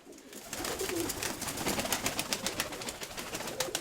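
A broad-bodied domestic pigeon in a loft coos softly, a steady low murmuring close by, with faint clicks and rustling behind it and no voices.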